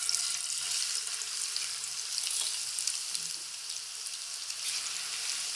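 Fish frying in a pan of hot oil gives a steady, dense sizzle that stays close and even throughout, with a few faint clinks and no talking.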